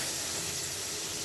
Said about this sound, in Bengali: এই পর্যায়ে আমি জল দিয়ে দিচ্ছি।